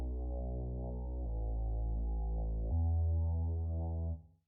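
A deep, sustained synth sub bass in a hardstyle remix drones with a few low note changes, thick and steady, then cuts off near the end.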